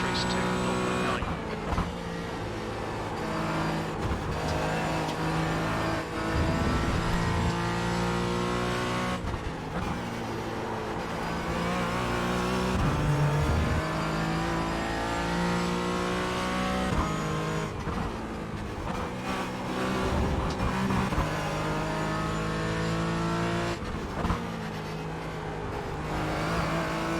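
Race car in the iRacing simulator, its engine droning and revving steadily while the tires squeal and slide through corners, loud and continuous, with a voice talking over it at times.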